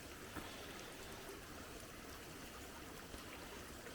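Muddy water runs down a slope, carrying clay washed off a road in Mediterranean dryland agroforestry, making a steady, close trickling rush with no pauses and no talk.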